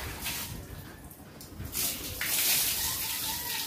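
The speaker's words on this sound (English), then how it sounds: "This is how you have a shower in the province." Water is poured from a bucket for a bucket shower in a rural Philippine province home, with a steady splashing, gushing sound that swells and continues nearby, with no talking.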